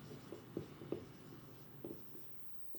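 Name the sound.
writing by hand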